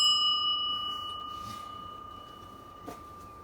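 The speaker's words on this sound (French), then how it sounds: "je lui ai affublé d'une jolie sonnette Solex ding dong comme ils disent" A Solex moped's bicycle bell gives a single clear ring that lingers and slowly fades, heard close and alone.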